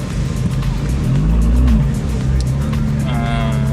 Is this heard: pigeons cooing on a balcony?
no